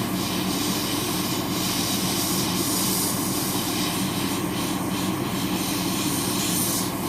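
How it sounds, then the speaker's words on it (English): Steady loud hiss of compressed air from an airbrush blowing straight air onto a Gunpla model to dry paint, continuous and unbroken throughout, with no speech. "Right now I'm not blasting it with the top coat, just straight air,"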